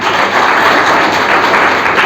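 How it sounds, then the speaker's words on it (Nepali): Sustained, dense applause from an audience honouring a sponsor at a Nepali motivational event, steady and loud throughout with no speech. "तो प्लिज उहाँलाई एक जोरदार ताली दिनुपर्छ"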